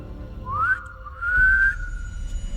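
A person whistles through pursed lips, two loud rising notes that slide upward and then hold, set against a low background rumble.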